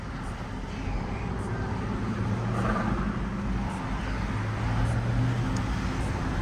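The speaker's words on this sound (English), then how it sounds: "Traffic." Steady road traffic hum around a car sitting in slow traffic during a New York State inspection renewal trip, a continuous low engine and roadway drone with no clear passes standing out.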